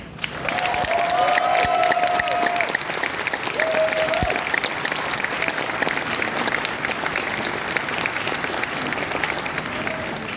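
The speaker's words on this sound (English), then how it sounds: "please join me in a round of applause to thank all of our volunteers today" A convention audience at the Anthrocon Northwest 5 closing ceremony applauds its volunteers, a long, steady stretch of many-handed clapping with a few whistles and cheers, fairly loud and sustained throughout.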